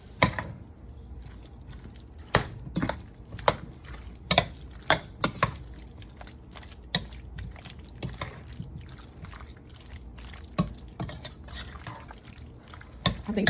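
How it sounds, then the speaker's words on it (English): A spoon works through potato salad seasoned with black pepper and salt, giving soft wet squelches and scattered clicks in an irregular rhythm, quiet and close with no talking. "And we're gonna mix this together."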